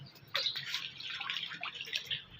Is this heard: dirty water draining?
yes